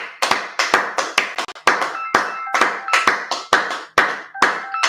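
Slow, spaced claps from a small group, each sharp strike ringing briefly in a reverberant room, coming in an uneven rhythm of roughly a dozen claps with short pauses, loud and close without speech.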